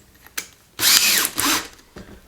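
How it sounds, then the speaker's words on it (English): Two short bursts of a masonry drill with a carbide-insert bit whine loudly up close, separated by a brief dip, with small clicks before and after and no talk. "So we're going to use a slightly smaller drill."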